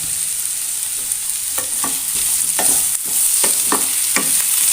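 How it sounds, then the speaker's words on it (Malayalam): A spice mix with curry leaves roasts in a pan, a loud continuous sizzle with repeated scraping stirs of a spoon at an irregular rhythm, close up and with no voices. "എന്നിട്ട് നല്ലോണം മിക്സ് ചെയ്യാം അതിലേക്ക് ആവശ്യത്തിനുള്ള കറിവേപ്പില ഇട്ട് കൊടുക്കാം"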